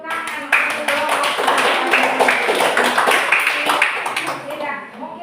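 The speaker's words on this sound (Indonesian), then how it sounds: "Kita tepuk tangan untuk kelompok." A classroom of students claps for a group after its presentation, a dense patter of hands over several seconds with voices talking and calling out through it.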